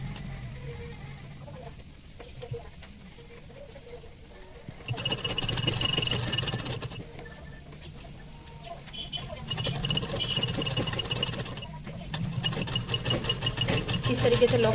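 An electric sewing machine lock-stitches a strip onto a baby frock, whirring in steady bursts between short pauses while a voice talks softly in the background.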